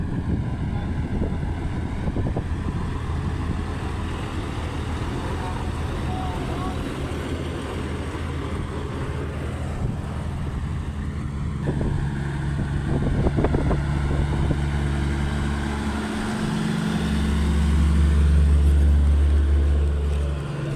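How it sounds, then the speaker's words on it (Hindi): Pneumatic-tyred road roller rolling over a freshly laid road, a low engine drone and rumble that grows louder and closer toward the end, with wind buffeting and someone talking over it. "अभी जो एक और रूलर आ रहा है टायरों वाला।"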